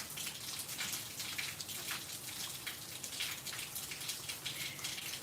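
Steady rain falls on a garden, a dense, even hiss of drops hitting surfaces with scattered patters, continuous and fairly soft with no voices.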